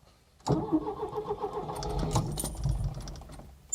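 An Alfa Romeo Alfasud family car cranks and fires up after cooling down, the starter whirring briefly before the engine catches and settles into a rough, close idle.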